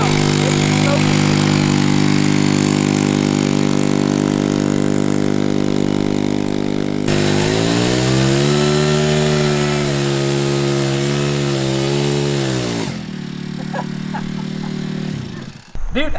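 A cheap pocket bike fitted with a brand new racing engine, already smoking, runs with a loud buzzing two-stroke drone that revs higher midway, holds, then drops sharply and cuts out near the end.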